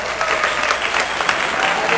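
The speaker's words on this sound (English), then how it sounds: "Let's give him a round of applause." A live audience breaks into steady applause that fills the room, dense clapping at a constant level with no pauses, welcoming a guest on a podcast set.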